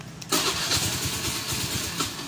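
A Suzuki Nex 110 scooter engine cranks and catches after a remote alarm start, then settles into a close, steady idle with a pulsing putter.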